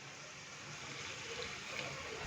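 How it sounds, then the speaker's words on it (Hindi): Water poured into a pan of spices with crushed red chilli, red chilli powder and salt while cooking matar keema pulao, a steady close gushing splash running throughout with no talk. "थोड़ा पानी डालेंगे"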